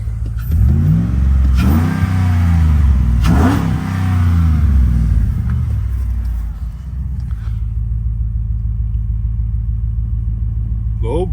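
A 1956 Fargo Town Panel bread truck engine running close by: loud rumbling revs with rising and falling pitch for the first several seconds, then settling into a steady, throbbing idle.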